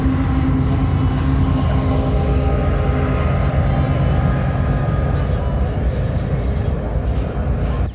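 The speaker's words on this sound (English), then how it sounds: "There's another train." A train passes near a parked van with a loud, continuous rumble and clatter that holds steady for several seconds, plus a faint tonal hum, and fades only slightly toward the end.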